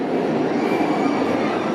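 A loud, continuous rumble and rattle of the Comet wooden roller coaster train at Hersheypark rolling along its track, close by, with a dense clattering roar and no voices.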